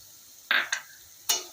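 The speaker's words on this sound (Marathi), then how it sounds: "लसूण भाजत आल्यानंतर त्याच्यामध्ये आपल्याला बडीशेप टाकायची आहे." Garlic, fennel seeds and spices hitting hot oil in a pan, giving three short bright sizzling bursts a fraction of a second apart against a quiet background.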